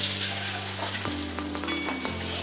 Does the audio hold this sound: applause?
no